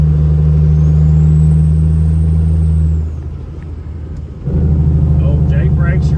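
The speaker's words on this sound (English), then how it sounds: "Oh, J brakes are working." Loud, deep throbbing diesel engine of a Freightliner cabover truck with a 6MZ engine, with a harsh staccato engine-brake rumble, dropping briefly before the heavy engine note returns.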